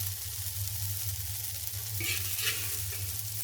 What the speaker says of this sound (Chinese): 米粉进去，摊开，先煎一小会儿